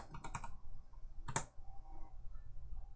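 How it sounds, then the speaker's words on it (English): Computer keyboard typing in a professor's office, a few scattered key clicks and one sharper clack near the middle, moderately close over low room hum. "My keyboard was in music mode."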